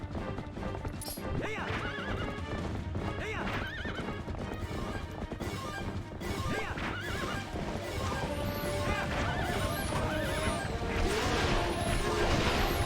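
Galloping hooves and repeated horse whinnies during mounted combat in The Legend of Zelda: Twilight Princess HD, the clip-clop rhythm running continuously under game music and clashing effects, with several loud neighs.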